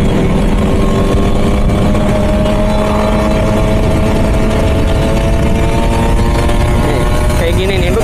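A Kawasaki Ninja RR two-stroke motorcycle engine runs close and loud in a continuous buzzing drone, its pitch shifting slightly near the end.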